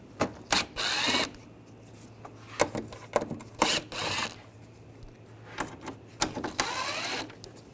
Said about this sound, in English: Up top, we're going to take these screws out, use a T25 socket.